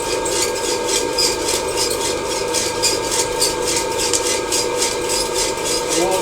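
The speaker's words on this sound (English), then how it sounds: "we're getting pretty good crack now" Coffee beans reaching first crack during home roasting, a faint scattered crackling over a steady whirring, rasping roaster drone, with no talking.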